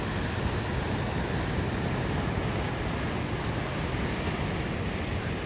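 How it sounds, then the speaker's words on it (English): Thunderous ocean waves crash against the rocky coast at Pemaquid, Maine, making a continuous loud roar of surf that holds steady throughout with no distinct breaks and no talk. "it was the thunderous waves crashing against the rocks that stole the show"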